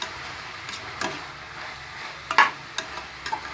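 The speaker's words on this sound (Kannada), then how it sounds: "ಸ್ವಲ್ಪ ಫ್ರೈ ಆಗಲಿ" Vegetables with mint and coriander fry in a pressure cooker while vegetable pulao is being made, giving a soft, steady sizzle broken by a few sharp clicks and scrapes of stirring.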